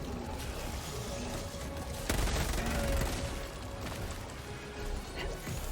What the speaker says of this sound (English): The Knight submachine gun, I've dumped 2 mags, and Mag's empty